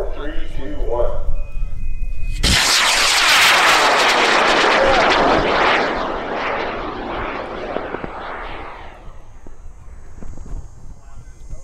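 A high power rocket, a 16.5 pound Mad Cow Red Devil kit on a Pro 54 L730 motor, ignites with a sudden loud roaring blast that rushes and crackles for several seconds, then fades into the distance at an outdoor launch field, with a voice heard beforehand.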